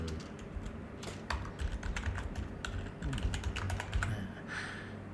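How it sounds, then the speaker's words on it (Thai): Rapid keystrokes on a computer keyboard clatter up close in an irregular stream, with short bursts and a few louder clicks as a Thai quiz title is typed into a form, set over a steady low hum and no speech. "ในหัวข้อชื่อให้พิมพ์คำว่าแบบทดสอบประมวล"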